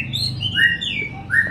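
Caged songbird singing loudly up close, quick bright chirps and whistled phrases in rapid succession over a low background rumble.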